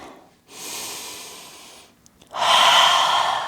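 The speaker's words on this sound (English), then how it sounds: "Take a few rounds of breath." Deep breathing in a slow yoga flow, a long soft exhale or inhale followed after a brief pause by a louder, rushing breath close to the mic, with no talk.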